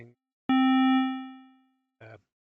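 Synthesizer VCO tone with sine wave harmonics stacked on it, a single bright buzzy note that strikes sharply and fades over about a second, set between short bursts of speech.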